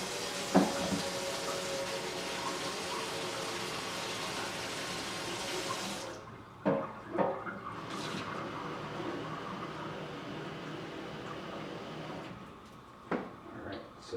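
Hot water runs steadily into a pour-over coffee filter for rinsing, a continuous splashing stream that stops after about six seconds, followed by quieter clinks and handling sounds.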